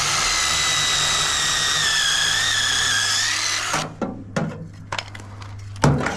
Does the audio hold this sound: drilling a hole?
yes